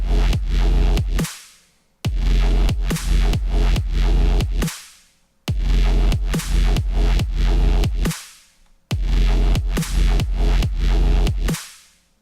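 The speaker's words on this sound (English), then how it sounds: "So let's hear this bass sound in the context of a little beat I made." Synth bass built in Ableton with a sine sub layered underneath, pumping under a simple drum beat with side-chaining, repeating in four loud bars that each swell and then fade out before the next.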